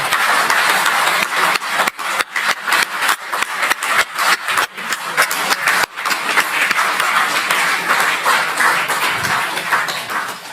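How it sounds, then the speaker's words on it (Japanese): After an interview with Jeffrey Sachs, the audience claps loudly and unevenly for about ten seconds, with a few sharp breaks and dips in the sound of hands clapping. "拍手。"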